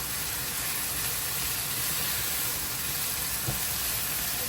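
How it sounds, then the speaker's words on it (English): Filling for Guyanese beef patties sautés in a pan with a steady, even sizzle and hiss that holds at a constant moderate level throughout, with a faint brief knock near the end and no voices. "you want to mix everything in well and let everything saute"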